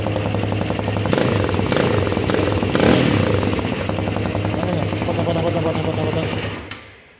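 An RKS Winner 200 motorcycle engine, a CG-style 200cc single, runs loudly and close with a raspy, rattling exhaust note, holding a steady rev before fading out at the end; voices are faintly present.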